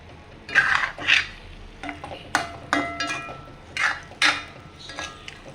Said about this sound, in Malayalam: നമ്മൾ ഒന്ന് ഇളക്കി കൊടുക്കാം ഏതാണ്ട് വെന്ത് വന്നിട്ടുണ്ട്